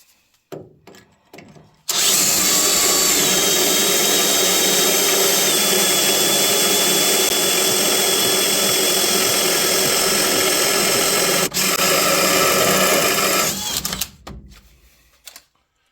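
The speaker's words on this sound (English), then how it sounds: "Now I'm going to center punch it and drill the frame." A power drill runs continuously for about twelve seconds, loud and close, its motor pitch sagging slightly as the bit bites into the metal frame of a Ford F250 truck, then winds down.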